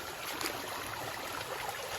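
Rain-swollen stream water rushing over rocks, a steady broadband wash that stays loud and close throughout.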